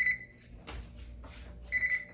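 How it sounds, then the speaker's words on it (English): A kitchen oven timer beeps while Brazilian cheese bread bakes, with short high electronic beeps at the very start and a quick run of beeps near the end over low room noise. "we've got about 5 seconds before the timer goes off"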